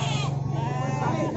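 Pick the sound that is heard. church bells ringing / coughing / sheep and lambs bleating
sheep and lambs bleating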